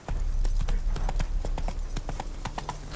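Roach the horse trots in The Witcher 3, and her hooves give a quick, even clip-clop that sounds close and carries through the whole stretch.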